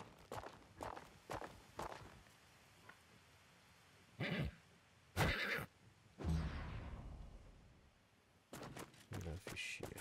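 A horse neighs and whinnies in the medieval strategy game Wartales, with hoof-like footstep thuds and a few short bursts of game noise over a quiet background; no one speaks.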